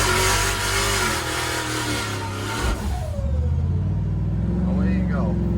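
Turbocharged Coyote V8 in a 1962 Ford F100 roars loudly then drops off sharply as the truck launches from a stop, followed by a rising rev under a voice.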